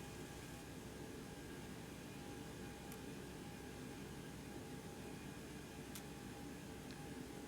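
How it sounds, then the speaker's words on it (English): The auxiliary power unit of a FlyJSim Boeing 727-200 in X-Plane 11 produces a faint, steady airy hum and hiss that holds evenly throughout, with two brief high clicks. "Batteries on, APU coming on."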